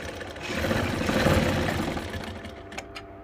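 Sewing machine running steadily as it stitches the sleeve seam of a blouse, a continuous mechanical whir that swells and then fades into a few clicks at the end.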